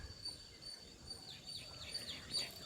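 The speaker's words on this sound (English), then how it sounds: "I do hear the birds." Faint, distant birds chirping at a lakeside over a soft outdoor background hiss, with scattered high tweets throughout.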